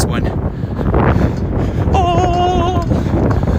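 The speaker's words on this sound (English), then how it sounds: "It should get majorly windy right now because we're gonna go on a bridge." Wind buffeting the microphone while skateboarding across a bridge, a loud, close rushing roar that swells and gusts, with a brief tonal whine partway through.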